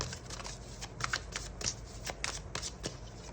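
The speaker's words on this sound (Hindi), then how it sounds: "अब मैं कुछ टैरो कार्ड्स निकालती हूँ ताकि हम इसको थोड़ा और समझें" Tarot cards are shuffled by hand close up, a steady series of soft riffling flutters and light card slaps in a quick, uneven rhythm, with no one speaking.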